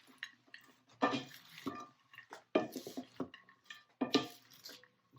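Sweet potato and chickpea salad gets tossed with dressing in a bowl, giving a few wet, squishy mixing bursts and clinks of a utensil separated by short pauses.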